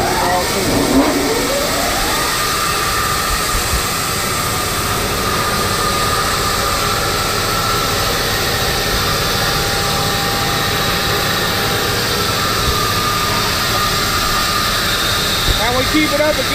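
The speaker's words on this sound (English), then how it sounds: "This is your hydraulic pump, turns on your belt." Hydraulic pump and belt-driven saws on a remanufacturing sawmill line run continuously, a steady loud mechanical drone with a rising whine near the start and brief clanks at the end, with talk over it.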